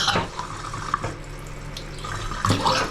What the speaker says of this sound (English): Water is back on.